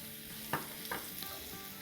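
Potatoes sizzle in a pan while chopped onion and green onion drop in, giving a soft steady fry with a couple of quick stirring scrapes.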